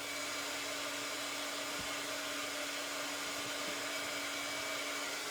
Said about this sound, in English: So gotta let the heat gun warm up for a second